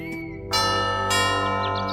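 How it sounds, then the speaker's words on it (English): Cartoon bell rings out bright and clear in a children's jungle fable, a sustained ringing tone with a second strike partway through, loud and alone with no talking. "This bell makes such a beautiful sound."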